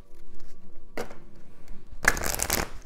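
Oracle card deck being shuffled by hand, two quick riffling bursts, the second longer and louder, close up with faint background noise between them.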